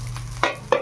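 Rice frying in a pan gives two short, close sizzling bursts over a low steady hum, with no voices.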